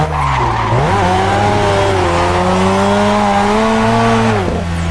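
A Mazda FC RX-7 in a video game drifts with a loud, sustained tire squeal over its droning engine, the pitch dipping and rising as the slide begins and ends, with no voices.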